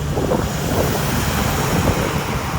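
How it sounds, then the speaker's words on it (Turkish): Strong wind buffets the microphone in a constant, loud roar with no other sounds, heard while riding a Honda Dio scooter. "Bayraktan bana doğru rüzgar var."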